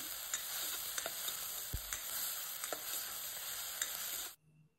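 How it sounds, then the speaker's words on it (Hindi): Onions sizzle in hot oil while a utensil scrapes and taps against the pan, frying toward golden brown, then the sound cuts off abruptly near the end. "क्योंकि तेल गर्म था तो इसमें तुरंत हमने डाल दिया ये और इसको अब गोल्डन ब्राउन होने तक पकाएंगे"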